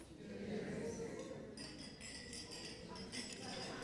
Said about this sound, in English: I love the cheers sound.